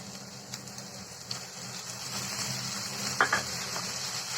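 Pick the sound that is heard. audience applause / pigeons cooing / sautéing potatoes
sautéing potatoes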